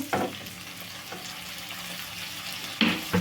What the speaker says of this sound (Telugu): ఇప్పుడు చిన్న చిన్న ముక్కలుగా కట్ చేసి పెట్టుకున్న టమాటా ముక్కలను అయితే వేసుకుందాము